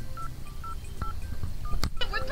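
Telephone keypad tones beep one after another in an uneven sequence of short dialing pulses, close and clear over a low background hum, ending with a brief clatter.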